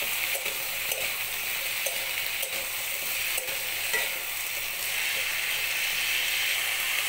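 Vegetables with turmeric and salt are stirred in a pan over a steady close sizzle, with light rhythmic scrapes and clicks of the spatula and no voices.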